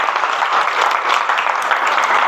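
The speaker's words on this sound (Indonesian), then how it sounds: "Tepuk tangan sekali lagi untuk kita semua." A classroom of students applauding together at the end of a lesson, a steady dense wash of many hands clapping at close range with no gaps.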